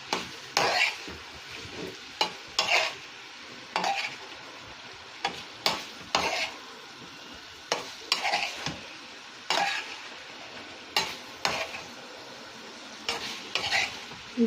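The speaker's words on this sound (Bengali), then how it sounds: "এখন এখানে আমি 2টা আলু কুচিয়ে নিয়েছি আর 4টে বেগুন কুচিয়ে নিয়েছি। এটা আমি কষিয়ে নেব।" Chopped potatoes and eggplant sauté in hot oil in a pan, their steady sizzle broken by repeated close, rhythmic bursts of a spatula stirring and scraping the pieces.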